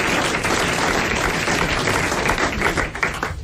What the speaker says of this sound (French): Vous applaudissez les grosses têtes.